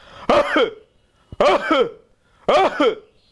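Three harsh, barking coughs come in an evenly spaced series, each a short burst from one person, loud and close in a quiet room.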